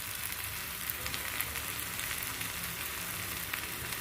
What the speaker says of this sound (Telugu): పసుపు వేసి బాగా కలుపుకోవాలండి